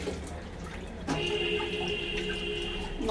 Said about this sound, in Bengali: এবার এই বাটির মধ্যে মশলার জলটা আমি দিয়ে দেবো